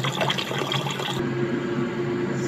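Pork pig feet washed under running tap water, a loud close rush of splashing water that steadies into a continuous even flow partway through.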